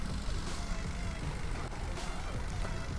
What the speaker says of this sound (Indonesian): deru gesekan ban dengan permukaan aspal sedikit terdengar sampai ke